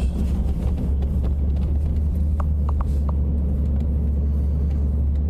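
Cars passing on a street lined with civilian apartment buildings, a continuous low traffic rumble with a few faint short chirps in the background.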